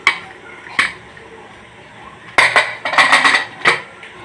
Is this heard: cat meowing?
no